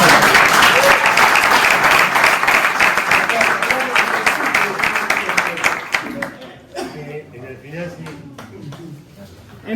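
Audience applause in a lecture hall at a class on Peronist philosophy and doctrine: dense, sustained clapping from a crowd for about six seconds, then thinning into scattered claps and murmuring voices.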